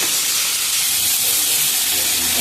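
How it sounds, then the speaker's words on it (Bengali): Crab legs frying in a pan with salt and turmeric, a loud dense hiss of hot oil filling the short stretch, steady and close without breaks. "এটাও আবার নুন হলুদ দিয়ে ভাজবো।"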